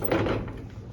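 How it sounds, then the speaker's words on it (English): A light, loose door on an old birdcage elevator with a bent or loose door mechanism, sliding with a brief rattling scrape that trails off over a low mechanical hum. "Very light door."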